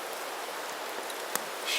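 Steady rain patters over a military pup tent campsite beneath a tree, a dense even hiss of drops close by with one sharper drip and no voices.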